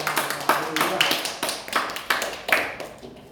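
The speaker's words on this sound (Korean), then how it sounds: "우리 같이 환영하는 박수 한번" A church congregation gives a short welcoming round of clapping during a Korean worship service, heard as a handful of separate, loose claps spaced irregularly over a few seconds, close and fairly sparse rather than a full ovation.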